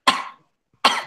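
Two sharp, loud coughs separated by a short pause, each one bursting out and then trailing off, with silence around them.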